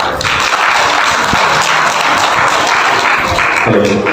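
An audience applauds a presenter at the close of a plan presentation at a business event in Goa, with steady, full clapping throughout and no talking over it.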